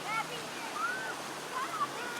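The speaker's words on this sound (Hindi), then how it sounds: "और ये नेचुरल पानी है, उसमें बच्चे नहा रहे हैं।" Natural water flows steadily at a Pakistani picnic spot where children bathe, a broad continuous wash of stream or waterfall noise with children's high shouts and chatter rising over it.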